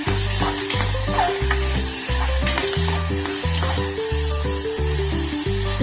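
Green peas, carrots and potatoes fry and sizzle in a pan, with steady loud sizzling throughout and repeated stirring scrapes recurring in a regular rhythm; no one speaks.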